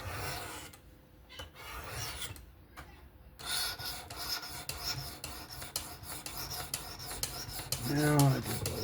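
Vosteed Acorn knife in 14C steel being sharpened on a WSPro stone of about 600 grit, with repeated raspy strokes rubbing steadily across the stone at close range. A brief voice comes in near the end.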